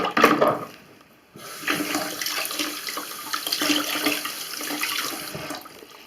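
Tap water running into a bathroom washbasin to rinse the cleaned drain, a steady rushing stream after a brief opening splash and a short pause, close and loud with no talk.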